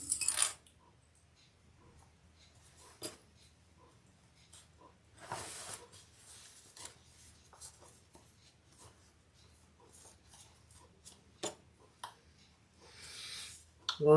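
Sewing clips are handled on the fabric of a Louie waist pack: small scattered clicks and soft rustles come in quiet bursts with pauses between them, close by.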